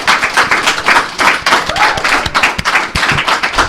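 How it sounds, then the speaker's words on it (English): An audience claps and applauds loudly and continuously for K-Tech, a dense, close wash of hand claps with no one talking. "please, big round of applause for K-Tech"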